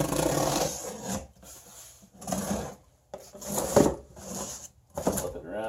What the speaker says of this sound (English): I'm going to have to use the trusty box cutter here